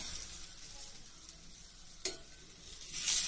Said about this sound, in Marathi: आता थोडं तूप टाकून घ्यायचंय. तर हा परोठा टाकायचा असा.